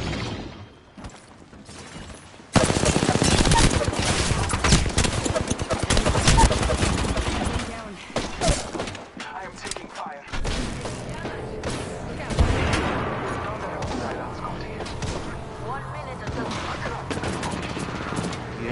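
Enemy gunfire in a video game sets in with a sudden loud burst of rapid shots, then sustained volleys and scattered bangs continue over a busy game soundscape, with nobody talking.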